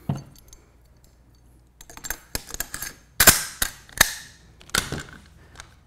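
A rifle's bolt carrier group slides and seats into the gun, giving a cluster of sharp metallic clicks and clacks of varying loudness, close and without talk.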